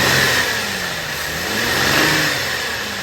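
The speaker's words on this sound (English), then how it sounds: "Rev it up for a second." Cadillac CTS engine revving with an oil leak at the filter housing, a steady, loud mid-range engine roar rising and falling slightly, recorded up close with no talking.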